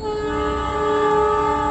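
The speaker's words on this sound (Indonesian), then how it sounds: "Guys, ini dia ada kereta yang mau lewat" A CC 206 locomotive approaches a small railway bridge in Indonesia, sounding a loud, sustained multi-tone horn blast close by over a rumbling train.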